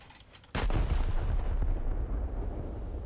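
A naval artillery shell firing in War Thunder booms once, sharp and loud, then a long rumbling roar slowly fades away.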